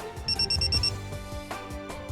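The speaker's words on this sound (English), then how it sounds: "You will hear 6 beeps and see a momentary flash from the red, blue, and green LEDs." A Geotab GO device on a 16-pin T-harness gives a quick series of six short, high electronic beeps when connected. The beeps are evenly spaced and sit over a steady background of music.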